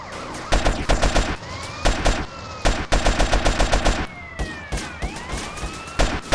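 Bursts of AK rifle fire from the video game GTA San Andreas rattle off in rapid, loud volleys with short pauses between them. Ringing, whistling game effects run underneath.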